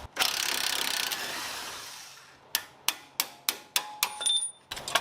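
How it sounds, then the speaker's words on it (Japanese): On a Mazda RX-7 FD3S, a lower arm bolt is freed with a two-second rush of power-tool noise, then a hand ratchet clicks out about eight crisp, evenly spaced strokes close up. "ロアアームのボルト切り離します"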